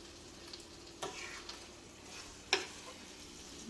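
Chicken pieces frying in a pan for teriyaki give a quiet, even sizzle, broken by two brief sharper clicks as the pieces are stirred and turned.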